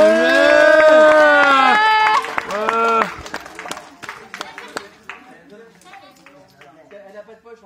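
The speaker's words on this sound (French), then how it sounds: "Sous des applaudissements de public" Applause from the audience at a boarding school's Christmas party: voices and loud sung or shouted sounds at first, then scattered clapping that thins out and fades to a few quiet claps.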